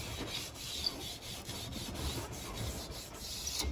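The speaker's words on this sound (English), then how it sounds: "Take the brush like this and just go along, if it'll reach." A brush scrubs along the front door window track of a 1964-66 Thunderbird, giving a soft, close, rhythmic back-and-forth rasp, quiet and repeated in short strokes.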